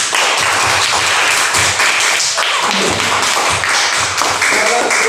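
Steady, dense applause from a class for a student group in a classroom, loud and continuous throughout with no talk over it.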